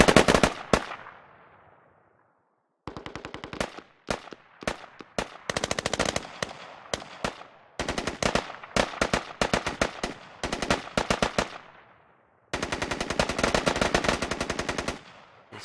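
In a competitive online shooter match, grenade-launcher blasts and rapid bursts of automatic gunfire come in loud, dense clusters separated by short pauses, with one large explosion at the start decaying into silence.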